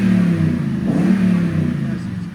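Toyota Tundra 5.7L V8 with a Borla ProXS exhaust rumbling deeply as the revs rise, a loud, close, sustained growl with a brief swell in the middle.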